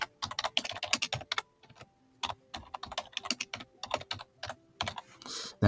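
Rapid typing on a computer keyboard, close and clear, with quick bursts of key clicks broken by short pauses and no voices.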